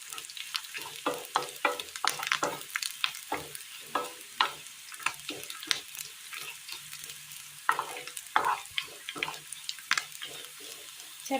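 Shallots, dried red chilies and curry leaves fry in hot oil, crackling and popping in sharp bursts with clicks of stirring, close and moderately quiet, no voices.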